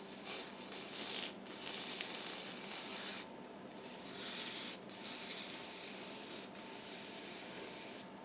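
An aerosol spray can hisses in several sustained bursts with short pauses between them while cleaning the pistons of a Nissan 350Z, close and fairly quiet, with no talking.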